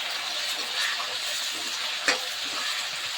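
Green chillies frying in oil in a pan, a steady bright sizzle with a brief louder crackle partway through, close and even.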